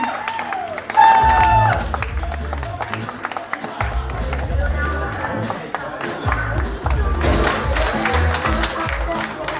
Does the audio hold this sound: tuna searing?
no